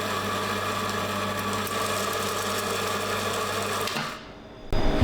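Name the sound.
coffee grinder grinding coffee beans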